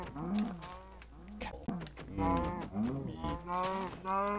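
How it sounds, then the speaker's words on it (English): A cow in the video game Minecraft moos several times in a row, with clear, loud, drawn-out calls that rise and fall, and no talking. "We need cow."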